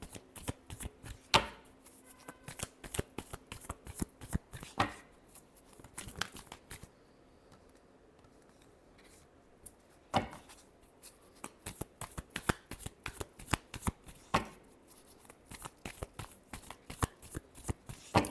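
A deck of tarot cards is shuffled again and again in a quiet room, giving close, rapid riffling and flapping bursts with short pauses between them.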